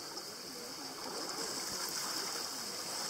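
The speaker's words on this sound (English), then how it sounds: "Just peaceful water" Water flows gently through the reeds of the Okavango Delta at sunset, giving a soft, continuous trickling wash with a faint steady hiss. It is calm and unbroken, with no voices.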